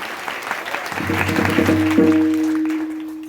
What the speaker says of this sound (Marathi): यांच्यासाठी जोरदार टाळ्या झाल्या पाहिजे